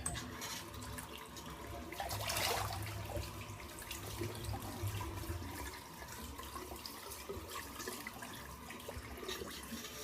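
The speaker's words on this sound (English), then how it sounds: "So all you do is rinse off with warm water" Warm tap water runs and splashes in a sink while rinsing a face after shaving, with soft irregular rinsing sounds and a brief louder gush early on; no talking.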